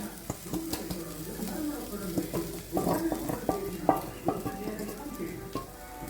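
Roasted coconut is stirred in ghee in a pan while making rice burfi, with scraping and clinking of a spoon against metal over a soft sizzle.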